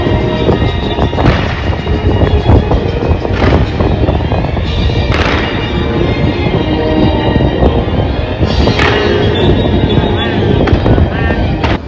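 Fireworks burst over Guadalajara at night, with several heavy booms standing out from a steady wash of wind and crowd-like noise that never drops away.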